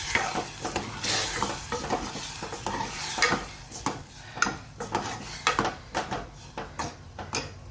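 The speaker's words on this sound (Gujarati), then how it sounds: "આપણે દાળ મસ્ત મગની દાળ વઘારી દીધી" Moong dal sizzles as it is tempered in hot oil in a pot while a spoon stirs and taps against the metal in quick, irregular clinks and scrapes, close and fairly loud.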